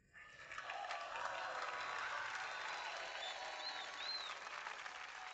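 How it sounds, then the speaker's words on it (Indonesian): Sustained applause from an audience at a stage event, steady broadband clapping filling the whole stretch after a quiet start, with a faint whistle-like rising tone near the end. "Mari kita sambut dengan tepuk tangan meriah."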